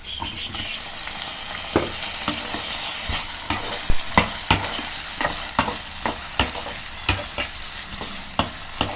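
Potato pieces sizzle in hot oil with a steady frying hiss, punctuated by regular clinks and scrapes of a spatula stirring the pan.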